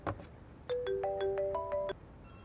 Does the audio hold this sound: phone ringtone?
yes